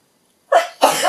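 Two loud, close sneezes burst out one after the other from a person, after a short silence.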